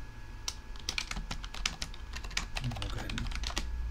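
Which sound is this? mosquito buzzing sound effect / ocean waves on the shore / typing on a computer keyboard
typing on a computer keyboard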